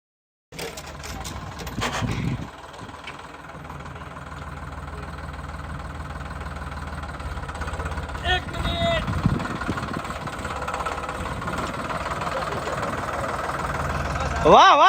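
A tractor engine idles with a steady low rumble through a parking challenge, while voices talk over it and a louder burst comes near the end.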